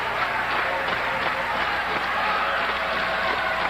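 A steady, dense roar of a wrestling crowd cheering throughout a dog collar match, broad and continuous with scattered claps, under faint commentary.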